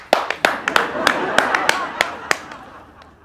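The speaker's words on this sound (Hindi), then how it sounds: "वाह, तालियां।" A few people clap in a scattered, uneven rhythm, with about ten sharp, close claps spread over three seconds. The clapping comes during a comedy sitcom scene while voices murmur underneath.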